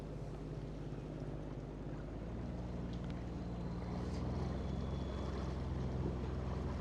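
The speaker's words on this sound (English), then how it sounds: "so here we are under motor, Dan." Grand Soleil 40 sailboat motoring under engine at about 2,000 revs and 6.2 knots, a steady low engine drone blended with water rush and wind noise, continuous and even throughout.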